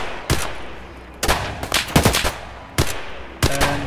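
Gunfire from scav weapons in Escape From Tarkov: several sharp, loud shots, some single and one quick burst, spaced irregularly over a few seconds.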